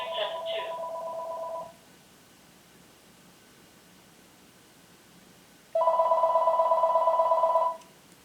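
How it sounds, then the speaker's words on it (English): A telephone rings twice on a call-in show, a short electronic ring at the start and a longer one after a few seconds of quiet line hiss, fairly loud and close, without talk over it. "Yeah, the phone's ringing."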